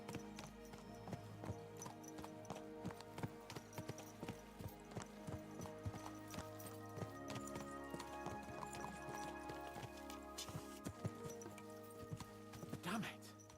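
Horse hooves gallop in a steady, rapid clip-clop rhythm through a medieval-world game, loud and continuous, with a neigh near the end and a voice speaking over the hoofbeats.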